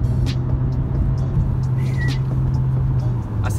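Steady engine drone of a 2019 Mitsubishi Eclipse Cross with a CVT in sport mode, heard from inside the cabin as it accelerates through its stepped gears, a continuous low hum with no speech.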